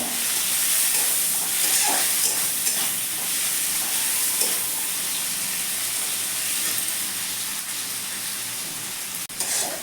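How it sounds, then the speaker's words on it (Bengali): Tomato frying in a pan for a homemade tuna fish curry, giving a steady close sizzle and hiss throughout with a few faint stirring scrapes and no voices. "ভালো করে একটু টমেটোটা ভেজে নেবো"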